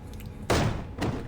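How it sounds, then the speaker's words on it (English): A door in a fantasy video game swings open with a loud bang, heard as a sharp, heavy slam followed by a second softer thump about half a second later over a faint background. "The door swings open with a loud bang, causing him to jump in surprise."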